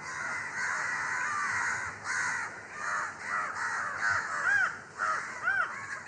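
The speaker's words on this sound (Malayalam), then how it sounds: "ഇവിടെ നിന്നും ഇറങ്ങേണ്ട താമസം ഇതുപോലെ കാക്കകൾ കൂട്ടമായെത്തും" A flock of crows gathering near a bamboo thicket, caws overlapping from several birds, some close and loud, others farther off, in a busy continuous chorus with bursts of harsher calls toward the end.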